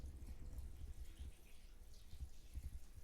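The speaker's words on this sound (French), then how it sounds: "Vous versez tout le contenu des 1 litre de lait au complet." A litre of milk is poured from an opened bottle in a steady, low, gurgling stream, close and fairly soft, with no voices.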